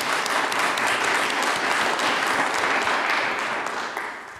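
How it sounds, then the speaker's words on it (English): Dense, sustained applause from a symposium audience for the panelists, a full steady roar of many hands that holds even and loud before tapering off slightly at the end. "Let's give them one more round of applause collectively."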